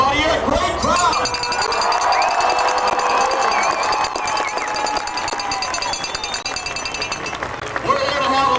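A large outdoor crowd at a 1994 San Jose Sharks celebration rally in downtown San Jose, cheering and roaring in a dense continuous wash of noise, with a loud voice carrying over a public address system.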